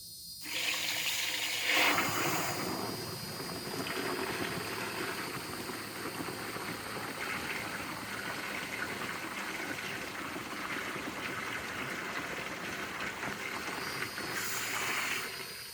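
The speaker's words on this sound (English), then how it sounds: "Let's turn on the water" Continuous rushing hiss of water flowing through a Valterra Viper RV sewer hose, steady and fairly close, running on without pause and with no talking.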